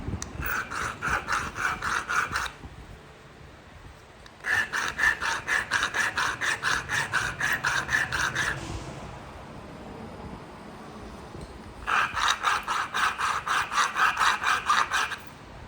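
Heated Alabama coastal plains chert is worked by flint-knapping, with bursts of rapid rhythmic scraping strokes against the stone edge, three runs of several seconds separated by quieter pauses, close up and without speech.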